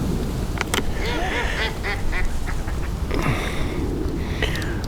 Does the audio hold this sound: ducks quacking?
yes